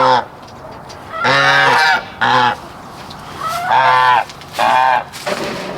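Geese honking loudly and close by, several bursts of harsh, stacked calls in quick succession with short gaps between them, upset by newly introduced chickens on a small farm with mixed poultry.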